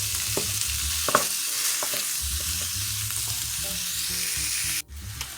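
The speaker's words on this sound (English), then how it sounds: "now we're going to add in our pound of ground beef. And I'm just going to go and break that into the veggies" Ground beef sizzling and frying with vegetables in a pan for stuffed bell peppers, a steady loud crackle with scraping stirs throughout, then a brief drop near the end.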